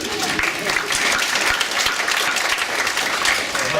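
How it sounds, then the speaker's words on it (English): A round of applause from an audience at an evening talk event. Loud, dense clapping runs evenly across the whole stretch, with faint voices mixed in. "give me a round of applause"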